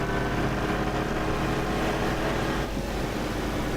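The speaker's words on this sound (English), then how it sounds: "Hear the engine screaming." A damaged aircraft engine screams in a DCS combat flight simulator, a steady loud broadband roar with a droning low hum that holds for the whole stretch, with no voices.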